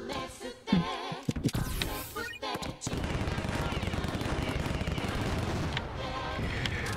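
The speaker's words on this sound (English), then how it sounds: "Secret Shinobi art machine gun." Rapid machine gun fire in the video game Nefarious, a dense unbroken stream of shots running for several seconds after a few scattered bursts and impacts, loud and close.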